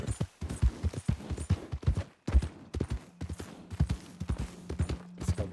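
Horse hooves clip-clop steadily in Red Dead Redemption 2, a rhythmic close trot of hoofbeats with occasional gear rattle, continuing throughout.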